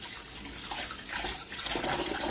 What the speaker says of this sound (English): add some water to it and thoroughly wash it